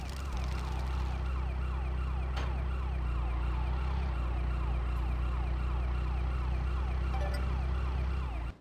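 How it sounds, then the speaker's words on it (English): Ambulance siren in the video game Grand Theft Auto Chinatown Wars, a loud, steady wailing sweep that repeats continuously over a low engine rumble for the whole stretch, with no talk. "Oh no, it's the ambulance."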